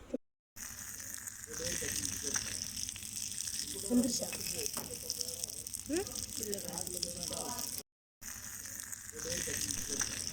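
Rock fish frying in a pan over a low flame, a steady soft sizzle running throughout at moderate level, with a voice talking over it.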